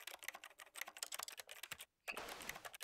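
Fast, close clatter of keys on a computer keyboard in bursts, a brief pause before another rapid flurry of keystrokes, with no voices.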